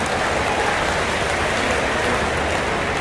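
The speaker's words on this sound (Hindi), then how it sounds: "अच्छी है तो जरा जोर से ताली बजाओ" A large crowd at a political rally applauds in a dense, sustained patter of clapping that holds steady and fairly distant for the whole stretch.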